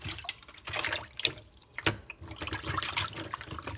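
Produce tossed into a sink of cold water with white vinegar for washing, a close series of splashes, drips and sloshing with brief sharper plops, moderately loud, no talk.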